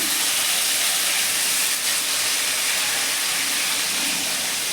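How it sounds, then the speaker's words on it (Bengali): Tuna fish frying in plenty of hot oil in a home kitchen, with a dense, loud, continuous sizzle holding steady throughout. "এখানে আমি পিঠটা ভালো করে ভেজে নিচ্ছি"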